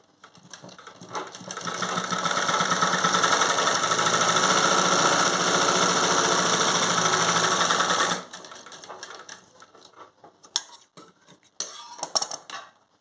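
A tailoring sewing machine with a freshly set bobbin stitches fabric in a loud, fast, steady mechanical whir for several seconds. Then it stops, leaving scattered clicks and handling taps.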